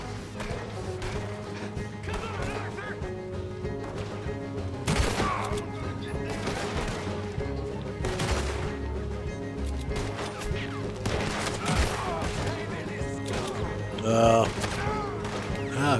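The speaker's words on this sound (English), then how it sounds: "Who's shooting me?" Gunfire in Red Dead Redemption 2 crackles in scattered, sharp bursts and repeated shots over a busy game soundscape, moderately loud and irregular, with voices speaking in between.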